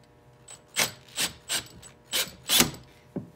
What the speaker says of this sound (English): stick it in your end of your rivet and screw it down in